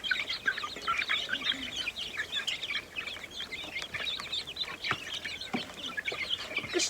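Chickens being fed wheat cluck and chatter steadily, a dense flock of overlapping calls with no voices.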